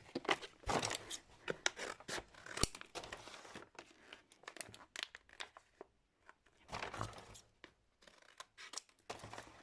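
Parcel packaging being opened: bursts of crinkling, tearing and cutting close by, in irregular rustling spurts with short pauses between them.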